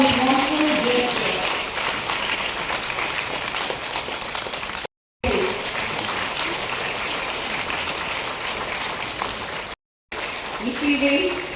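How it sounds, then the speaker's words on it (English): Applause from an audience at a ceremony honoring contributions, a steady broadband wash of clapping that runs for several seconds, briefly cut twice, with faint voices mixed in. "Gentlemen, once again, let's applaud this wonderful gesture."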